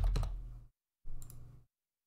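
Two short bursts of mouse clicking at a computer while working in a fantasy map generator program, the first a quick cluster of clicks and the second a brief single click, close and fairly quiet with silence between.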